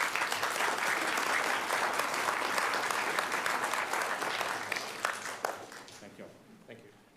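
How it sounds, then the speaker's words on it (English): Applause from a city council audience after a presentation, a thick steady wash of clapping that gradually thins and tapers away toward the end. "please give them a round of applause."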